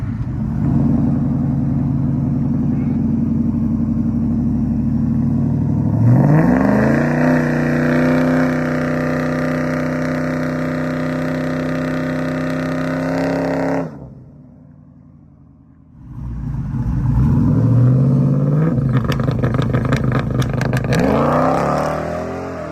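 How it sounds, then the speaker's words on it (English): A nitrous-fed Chevrolet S10 pickup idles rough and loud, then its engine roars at sustained high revs through a burnout, drops off briefly, and screams back up again with no talk over it. "we're doing another quick burnout"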